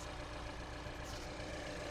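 A 2013 Mini Cooper S Roadster's 1.6 turbo engine idles close by, giving a steady, even hum with a low exhaust note and no other sounds.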